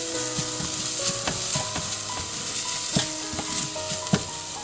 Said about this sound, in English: Now we have to add turmeric powder. Mix it for few seconds so that we don't get raw smell of turmeric.